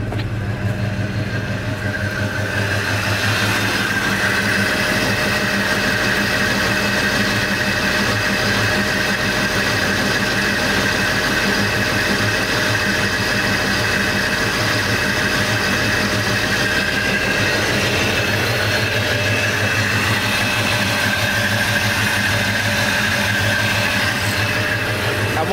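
Chevy C10 truck fitted with a new Edelbrock AVS2 carburetor, started after sitting seven years, idles steadily with a loud, even engine drone and a constant hum, close to the microphone and heard without talk.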